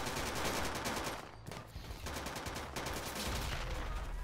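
Dense, continuous gunfire from soldiers shooting out of vehicle windows in the military shooter game Project Reality, a loud unbroken barrage of overlapping shots with no talk.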